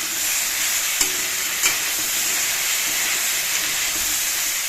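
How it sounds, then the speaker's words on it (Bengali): Vegetables frying in a pan with salt and turmeric give a loud, steady sizzle throughout, broken by a couple of soft stirring knocks, no talking. "লবণ হলুদ দিয়ে ভালো করে একটু ভেজে নেবো"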